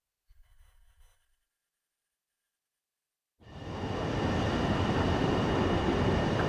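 A train rolls along rails in the Ace Combat 7 flight combat game, a steady loud rumble that starts abruptly after a faint sound and a brief silence, then continues without a break.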